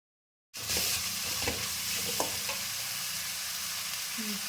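Tuna pasta ingredients with curry leaves stirred and mixed in a frying pan, a steady close sizzle after a half-second of silence, with occasional scraping taps of the spoon and no talk.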